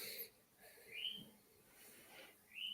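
A pet parrot whistles indoors in a few short rising and falling tones, moderately faint, with quiet breathy noise between calls and no talk.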